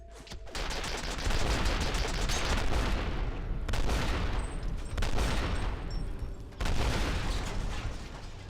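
Autocannon in the shooter game F.E.A.R. fires in rapid, sustained bursts, loud and close, with heavy mechanical rattling and brief pauses between volleys, no voices over it.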